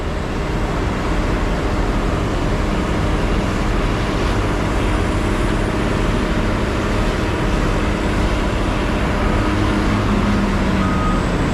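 A forestry wood chipper with its upper feed wheel pulling material in during a 20-acre clearing job, a loud steady mechanical roar with heavy low rumble and grinding, continuous and close with no speech.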